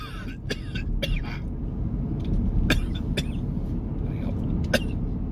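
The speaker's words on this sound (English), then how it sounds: "I'm gonna cough." Several sharp, separate coughs over steady traffic-like rumble, with someone talking faintly in the background.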